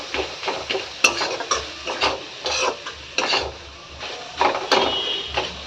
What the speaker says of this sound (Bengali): এবার মশলাটা একটু কষিয়ে নিয়ে